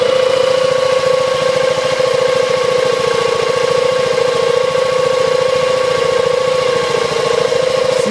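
A BMW Isetta's small engine idles steadily right after starting, a loud, even, close mechanical drone with a fast rhythmic pulse that holds without change, with no talk.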